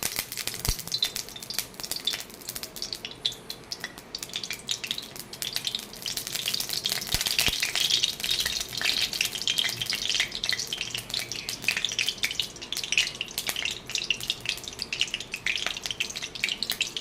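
Mustard oil sizzles steadily in a hot wok, a continuous bright crackling hiss with scattered sharper pops, close and fairly loud with no talking.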